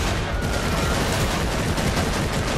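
Continuous heavy gunfire in the video game Warhammer 40,000: Eternal Crusade, a dense, loud, unbroken wall of overlapping shots with no pauses.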